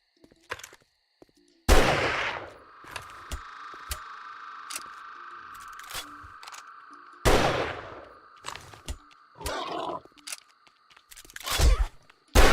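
Rifle gunshots in a video game, several loud separate blasts with pauses between them and a ringing tone hanging in the gaps, plus smaller clicks and thuds, no talk.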